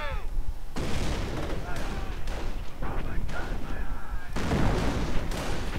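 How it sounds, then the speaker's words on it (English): Mortar shells explode around a machine-gun position in a WWII strategy video game, with dense booms and gunfire rumbling continuously under a commentator's voice. "Mortars landing on the MG."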